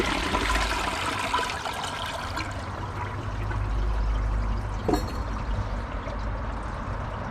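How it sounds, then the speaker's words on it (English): A clogged toilet is given its second flush after the tank refills, a close, sustained rush of pouring, swirling water lasting several seconds with no voices. "I'm gonna give it a second flush after the tank is full"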